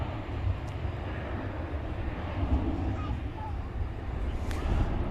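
Martinair cargo airplane at DFW Airport at night, its engines giving a steady, broad roar that fills the whole stretch, with a voice talking over it.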